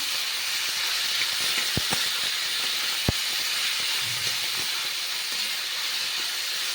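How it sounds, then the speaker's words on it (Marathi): Ivy gourd cooks covered in a pan, giving off a steady, close hiss of steam that runs throughout, broken by a couple of sharp clicks. "एक दोन मिनटं चांगली अशी वाफ देऊया तोंडीला"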